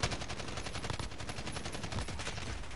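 Rapid, continuous automatic AK rifle fire in a video game, a dense loud stream of shots with no pauses across the whole stretch.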